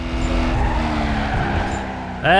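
A Mustang GT drifts in Need for Speed Carbon, with a loud sustained tire skid and engine roar throughout that rises into a sharp revving whine at the end, close and continuous.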